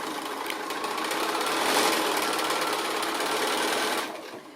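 A sewing machine stitches a line across quilt fabric in one continuous, fast, buzzing run that holds steady and then slows and fades near the end, with no voices.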